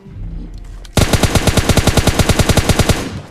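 Automatic weapon fire in PUBG Mobile Lite, a loud sharp burst of about twenty rapid evenly spaced shots after a short quieter lead-in.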